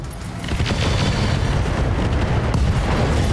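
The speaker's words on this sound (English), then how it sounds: "ammo explosion" Ammunition explosion in the mech combat video game Roguetech, a loud sustained rumbling boom that starts after a short pause and holds steady for about three seconds.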